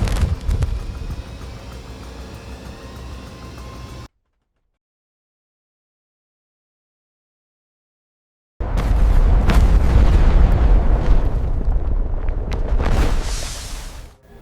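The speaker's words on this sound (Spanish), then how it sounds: "la bomba de hidrógeno soviética explota" A Soviet hydrogen bomb detonates about 4,000 feet above the ground as a heavy roaring rumble: steady low noise, then total silence for several seconds, then a loud, sustained thunderous blast that fades out at the end.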